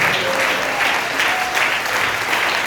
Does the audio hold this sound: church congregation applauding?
yes